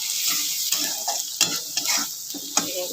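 Ground turmeric, chili and coriander are stirred into an oily pan mixture for dahi baingan, giving a bright continuous sizzle broken by several scraping spoon strokes at an uneven pace.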